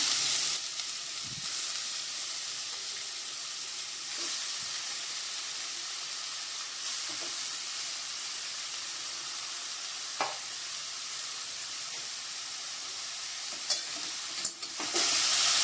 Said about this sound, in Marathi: तर आपण आता गाजराचा किसलेलं गाजर घालूया